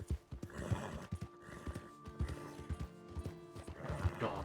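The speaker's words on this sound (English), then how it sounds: "Got my big old dark horse." Horse hooves clip-clop in a steady uneven gait with occasional whinnies in the Red Dead Redemption 2 video game, set against a quiet game soundtrack, fairly close and clear.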